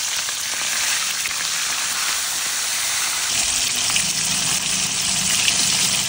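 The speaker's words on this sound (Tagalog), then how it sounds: "piprituhin ko nga pala to ng very light" Mackerel tuna (tulingan) fry in hot cooking oil in a pan, a dense, continuous crackling sizzle that stays close and fairly loud throughout, with no talking over it.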